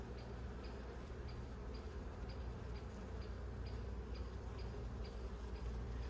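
Honeybees hum steadily at a hive, a faint, continuous low drone with a light, regular ticking above it.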